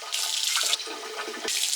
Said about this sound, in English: I'm going to put a cup of water into my rice.